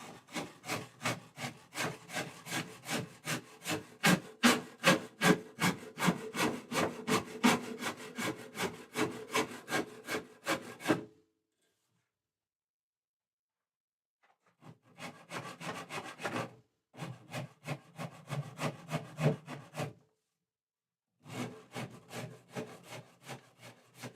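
Wood on a custom guitar is worked at an angle to form a 45-degree bevel. Rapid rhythmic rasping strokes run for about eleven seconds, stop, then return in two shorter bursts, close and unaccompanied by talk.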